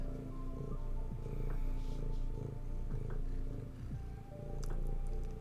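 A pet cat purrs close by in a steady low rumble, with a faint background hum and a brief scratchy rustle near the end.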